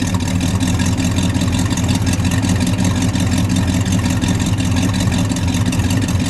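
The R2 engine of a red 1963 Studebaker Gran Turismo GT Hawk idles, a loud, steady low rumble with a constant throb that runs unbroken throughout.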